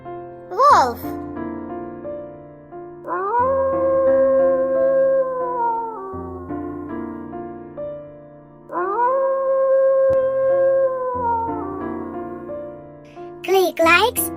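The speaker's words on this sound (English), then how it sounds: "Wolf." A wolf howls twice in long, drawn-out tonal wails that rise and hold steady, clear and fairly loud over a low sustained musical backdrop.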